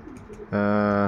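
Racing pigeons at the loft, a single close, low, resonant coo rising out of faint background noise and holding for about half a second.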